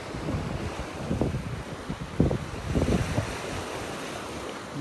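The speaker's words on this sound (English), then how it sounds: "I just kind of let you relax and enjoy the sounds of the waves as we're walking along." Ocean waves wash onto a beach in North Naples, Florida, a steady surf roar with soft surges rising and falling, mixed with wind buffeting the microphone and no talking.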